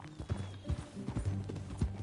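Horse hooves clip-clopping at a steady walking rhythm in Red Dead Redemption, close and clear across a short ride, with a faint whinny-like tone and no speech over it.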